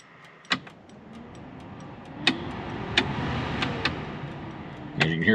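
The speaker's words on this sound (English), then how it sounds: "let me show you the fan, how well it works" A car's ventilation fan runs through its speeds. It makes a steady airy whoosh that gradually grows louder, broken by several sharp clicks as the switch changes position. It is close, with no one talking.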